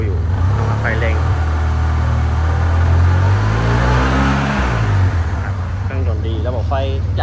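A black 2017 Yamaha Tmax-DX 530 scooter sits on its center stand as its engine revs up, the low drone rising and then falling back over several seconds, loud and close, with someone talking over it.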